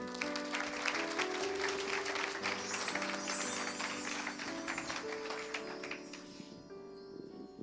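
A church congregation claps and cheers in sustained, dense applause over organ-like held chords, steady and full throughout before easing slightly at the end.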